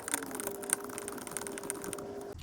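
A ratchet tightens the screws on a Craftsman sander pad, giving a close, continuous run of fine rapid clicks over a faint mechanical hum, with no voices.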